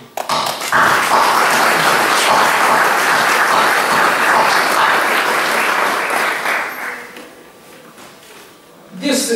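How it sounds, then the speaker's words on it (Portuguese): A crowd at the inauguration of a business park in Alcobaça breaks into loud, sustained applause lasting several seconds before fading, then a brief new burst of clapping near the end. "Eu permitia-me pedir uma salva de palmas a todos aqueles empresários"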